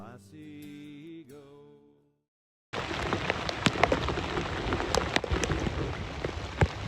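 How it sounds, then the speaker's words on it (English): Rain falling outdoors on Waterpenny Farm, a steady close hiss with scattered sharp drop hits, starting abruptly after a brief electronic tone and a short silence. "out in the rain"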